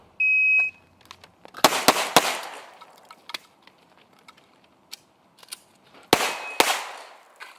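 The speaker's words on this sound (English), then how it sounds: "I'm going to draw and fire until the gun is empty while I'm backing out" A handgun fired repeatedly during a timed shooting drill, a close, loud burst of sharp shots that begins after a shot-timer beep, followed by a quiet pause with small clicks, then two more loud shots.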